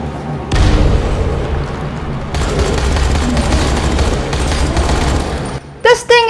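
Explosions and rapid SMG fire from the Dying Light: The Following video game form a dense, continuous barrage of booms and crackling shots, ending with a brief stretch of speech.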